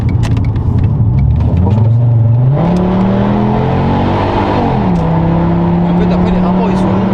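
A Volkswagen Golf 4 with the V5 engine and a four-speed gearbox revs and pulls up through the range, then settles back to a steady drone, loud and close, with someone talking over it.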